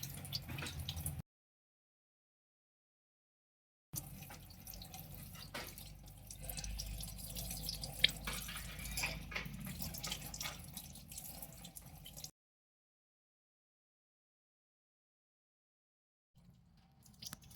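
Water runs and splashes from a tap while a printer ink container is washed, heard in two bursts separated by silent gaps, with faint drips and handling noise and no talking.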